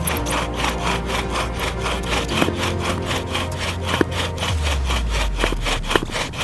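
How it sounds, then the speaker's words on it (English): Rapid back-and-forth rasping of a bow drill's wood rubbing on wood, steady and rhythmic, growing slightly faster near the end, close and loud. "When I see 12-year-old Quinn bust out the bow drill like that"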